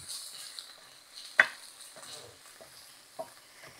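Onions and vegetables cooking in a pan give a faint, soft sizzle, punctuated by a few distinct utensil taps and scrapes, one clearly louder than the rest.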